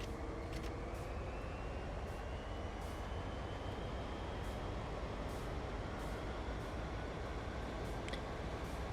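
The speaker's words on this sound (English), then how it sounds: "Let's sit down now and drive the locomotive." A Santa Fe SD40 diesel locomotive drives on Cajon Pass in a train simulator, its engine a steady, loud droning rumble that holds even throughout, with faint clicks above it.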